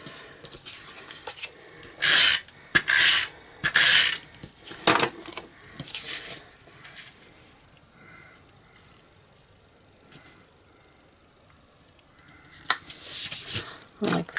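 Paper trimmer slicing black cardstock, with several short, bright scraping swipes of the blade in quick bursts, then a quieter pause and a final pair of cuts, all close and fairly loud.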